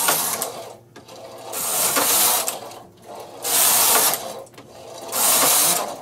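A Singer knitting machine carriage pushed back and forth across the needles, each pass a loud mechanical rattling whir lasting about a second, separated by brief quiet gaps.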